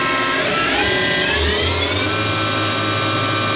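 The spindle of a Doosan DNM-400 vertical machining center spins at just over 500 RPM, a loud, steady mechanical hum with a pitch that rises slightly early on and then holds constant.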